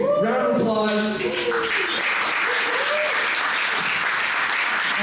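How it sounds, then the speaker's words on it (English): Sustained applause from a comedy roast audience fills the room at a steady level, with a voice speaking over it at the start before the clapping carries on alone. "let's give Bob a big round of applause"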